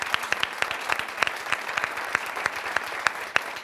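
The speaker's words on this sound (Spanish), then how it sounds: "Fuerte el aplauso" Applause rings out at the Premio del Motor Ciudad de Jerez 2022 awards ceremony, given for an honorary prize to Red Bull: steady, dense clapping from a seated audience with sharp individual claps standing out, continuous throughout.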